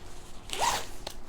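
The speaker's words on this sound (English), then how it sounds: "The zipper seems to be pretty good." A Naturehike sleeping bag zipper gives one quick, close zip in a quiet room, a short rasping pull with a fainter catch just after.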